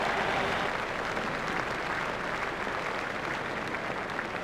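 A cricket crowd at a Zimbabwe versus India one-day international applauds a back foot shot, producing steady, broad clapping and cheering that holds for several seconds at moderate distance.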